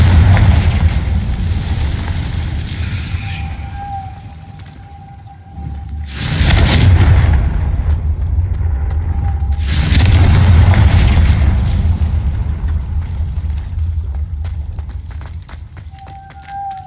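The Confringo fire spell bursts in Hogwarts Legacy, two loud booming explosions a few seconds apart over a rumbling game backdrop, with faint chime-like tones between them.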